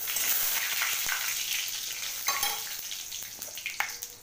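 Bay leaves, panch phoron and dry red chillies fry in hot oil with a continuous crackling sizzle, close and fairly loud, broken by occasional sharp pops and the scrape of stirring.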